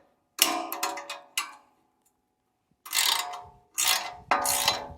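Ratchet wrench tightening the front bumper bolts on a Tesla Cybertruck, heard as close, loud bursts of rapid clicking separated by pauses, with no talking.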